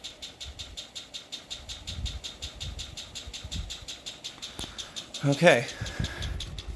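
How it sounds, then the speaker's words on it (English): A 30-inch three-blade Canarm Twister ceiling fan runs with its light on, giving a steady, even motor hum throughout. A person briefly says a word near the end. "Here is the fan and light on at the same time."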